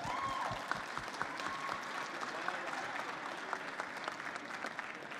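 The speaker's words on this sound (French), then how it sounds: "la pièce est exposée, on peut l'applaudir bien fort" Steady, dense applause from an audience at a chocolate competition award ceremony, greeting a chocolate circus piece on display. It is soft and fairly distant, continuing evenly throughout.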